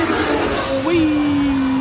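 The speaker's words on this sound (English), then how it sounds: "Here come the historic cars." Historic race cars passing on the circuit at Spa during the Belgian Grand Prix weekend, a whining engine note that sweeps by and fades into a steady drone, heard at moderate distance under a voice.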